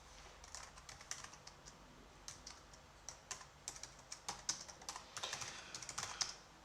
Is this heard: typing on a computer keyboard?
yes